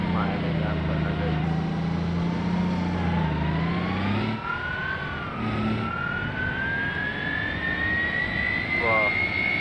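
A car engine in the BeamNG driving game revs up loudly, its whine climbing steadily in pitch after a brief lower idle, with someone talking at times.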